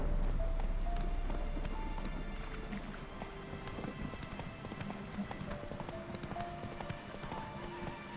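Geralt's horse Roach gallops in The Witcher 3, a quick steady clip-clop of hooves close by with faint ambient game sound around it.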